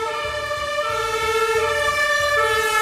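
An ambulance siren wails loudly and close in a sustained, shifting electronic tone, with a low engine rumble pulsing underneath.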